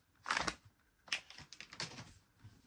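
Crisp paper crinkling in short bursts, close by and fairly soft, with a couple of rustling grabs spaced over a few seconds.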